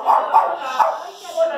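A dog barks in short bursts, roughly four quick yaps spread across a moment, fairly close and mixed with a voice in the background at a lively birthday party for adults.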